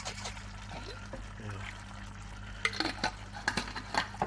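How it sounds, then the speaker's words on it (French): Water is poured into a homemade tomato basil sauce, a soft trickle and splash followed by scraping and stirring clinks against the pan, close up, with some faint background noise. "je rajoute un peu de flotte"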